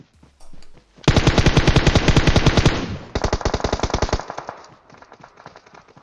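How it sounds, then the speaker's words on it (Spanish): Loud automatic gunfire in PUBG Mobile, with a short burst and then long rapid strings of close shots that pause, resume and trail off into scattered fainter shots. "Hay uno que me está disparando con M24 atrás, mátenlo."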